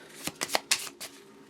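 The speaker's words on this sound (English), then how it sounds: "there's a shuffle" Marvel Champions playing cards are shuffled in a few quick, soft riffling bursts, close and quiet with no talking.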